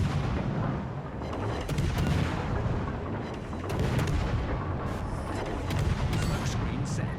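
Warship guns fire heavily in the naval video game World of Warships Legends, a dense loud barrage of booms layered over continuous rumbling battle noise.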